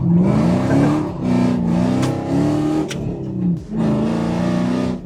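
A Nissan Gloria fitted with an LS V8 revs hard and close, its deep harmonic engine note climbing and falling over several throttle blips, with no talking.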